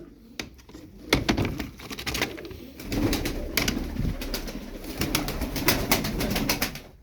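Tumbler pigeons coo softly and continuously, with sharp clicks and flutters breaking in throughout.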